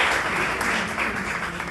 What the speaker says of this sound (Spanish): Ahora sí vais a aplaudir.